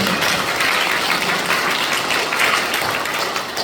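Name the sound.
audience applause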